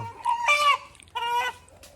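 A chicken clucks in two short bursts of nasal, throaty calls, close and clear with no talking.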